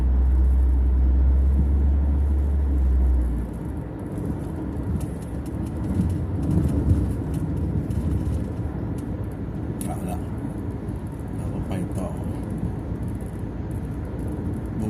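A car cruises along a highway bypass with a steady low road rumble, starting with a heavy low-frequency roar that then settles into a continuous drone while a person talks over it.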